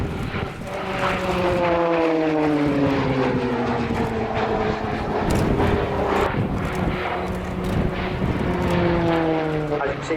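A Royal Air Force Shorts Tucano T1 turboprop flies a display at the Royal International Air Tattoo 2013, its loud propeller and engine drone shifting in pitch as it passes, heard alongside a commentator's voice.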